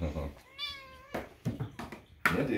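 Several close, drawn-out meows from a household cat, one long wavering cry in the middle and shorter calls around it, with people talking at home before and after the cries.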